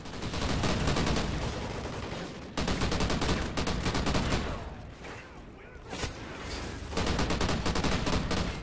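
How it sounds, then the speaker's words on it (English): A light machine gun in Call of Duty Ghosts fires in long, dense automatic bursts, loud and close, with brief pauses between strings of rapid shots. "This is actually quite a nice machine gun."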